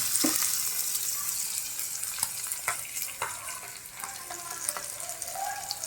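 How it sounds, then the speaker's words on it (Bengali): Tatkini fish frying with onions in hot oil, a continuous bright hiss of sizzling with occasional soft scrapes and pops, steady and close at moderate volume. "এই পেঁয়াজটা বেরেস্তার মতো হবে সুন্দর করে ভাজি হচ্ছে"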